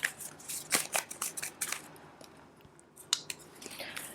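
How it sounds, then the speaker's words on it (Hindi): Tarot cards being shuffled by hand in a quiet room, a run of crisp papery riffles and flicks up close, with a short lull before a few more snaps. "थोड़ा शफल करूंगी मैं डिफरेंट वे में"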